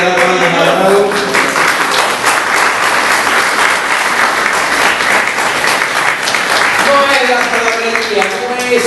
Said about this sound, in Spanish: Así que usted quiere dar palmas al amado.